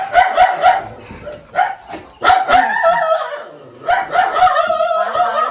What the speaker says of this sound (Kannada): ನೋಡಿ ನಾಯಿಗಳೆಲ್ಲ ಬೊಗಳುತ್ತಿದೆ.